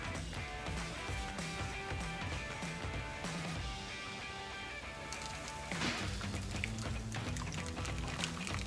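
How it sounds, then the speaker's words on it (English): Flan de queso batter poured into a caramel-lined pan, a close steady glugging pour with a thicker surge partway through, no talking. "now I'm just gonna pour in our flan into the caramel"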